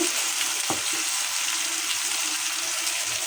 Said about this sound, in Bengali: মশলাটা আমি ভালো করে কষিয়ে নেব